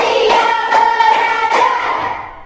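Schoolchildren in a classroom clap a counted pattern together, a quick cluster of loud group claps in an uneven rhythm over a background of voices, fading at the end.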